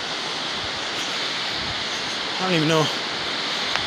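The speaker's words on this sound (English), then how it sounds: "Constant spring water all everywhere you go. There's little waterfalls." Spring water and small waterfalls rush beside the Eagle Creek trail in Oregon, a steady broadband roar filling the whole clip, with a brief voice speaking over it partway through.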